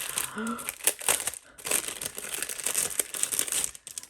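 Paper envelopes crinkle and rustle as they are unpacked and handled close by, in bursts of crumpling with a brief pause midway, while a voice speaks over parts of it.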